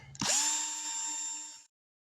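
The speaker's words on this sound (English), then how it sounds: "now I got the holes all drilled around" A power drill whines up sharply and bores steadily through a power station flange for about a second and a half, then cuts off to silence. The sound is close and loud with no talk.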